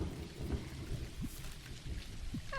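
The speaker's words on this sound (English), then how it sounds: "It's just thunder." Rain falls steadily in the video game Dinkum, a soft continuous patter broken by a few low rumbling thunder bursts, fairly faint throughout with no voices.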